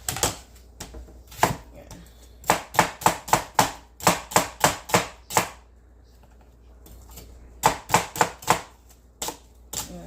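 A Salad Master knife chops medium onions and garlic on a board in a run of crisp, rapid knocks that pause and resume. A person speaks briefly nearby.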